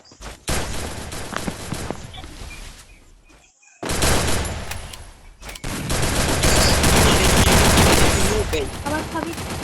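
Rapid bursts of automatic gunfire from a shooter video game, loud and dense fusillades with a short gap, while players talk over it.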